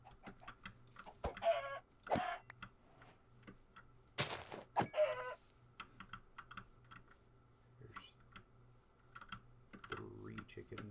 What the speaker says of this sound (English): There's 3 chickens.